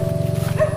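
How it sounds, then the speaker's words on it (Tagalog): A dog near muddy farm fields gives a quick yappy bark with rapid pulsing over a steady low hum, all within under a second. "Oh, may aso."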